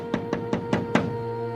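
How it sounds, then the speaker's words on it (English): Five firm knocks on a door in a quick, evenly spaced series, close and distinct, each a short hollow thud, with quiet after the last one. "two suspicious-looking men knocked at the door"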